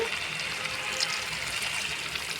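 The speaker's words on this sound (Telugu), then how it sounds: "వాటర్ వేసుకుందామండి." Water pours steadily into a cooking pan of amaranth-leaf curry, a continuous close gush that runs evenly throughout without any voices.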